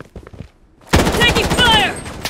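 Sustained automatic gunfire in the shooter game Project BloodStrike, a loud continuous burst starting abruptly after a quiet moment, with a brief voice heard just before it begins.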